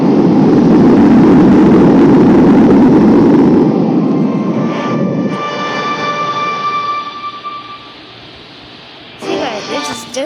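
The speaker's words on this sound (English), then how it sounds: "there was an engine trouble in this fighter jet." A fighter jet suffering engine failure in the Extreme Landings Pro game, a loud roaring engine that fades and thins into a winding-down whine with faint tonal hums, then a brief electronic chirp near the end.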